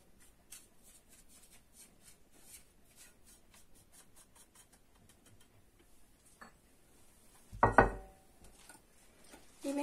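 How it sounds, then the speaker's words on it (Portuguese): Rest of the flour stirred into cake batter in a bowl: quick, faint, rhythmic ticks and scrapes of a utensil, then a louder clunk near the end. "Agora, eu vou incorporar o resto da farinha."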